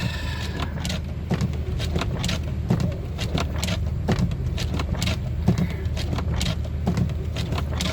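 A car creeps along slowly on a frosty road, its engine rumbling low and steady throughout, with repeated small clicks and knocks from the cabin and tyres over the icy surface.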